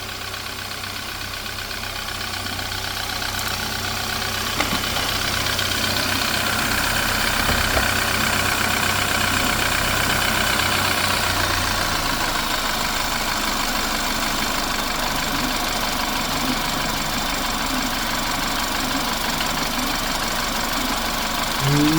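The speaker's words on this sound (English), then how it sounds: "But the engine sounds way quieter already." An ex-police BMW engine idles steadily after a cold start, a continuous low hum with a faint ticking texture that settles slightly lower partway through, heard up close with no talk.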